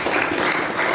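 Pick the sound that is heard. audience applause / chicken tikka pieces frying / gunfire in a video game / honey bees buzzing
audience applause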